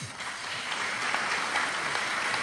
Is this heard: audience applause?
yes